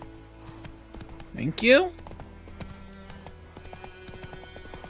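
Roach, Geralt's horse in The Witcher video game, clip-clops along in steady hoofbeats, with a loud whinny partway through and a brief spoken voice over the game audio.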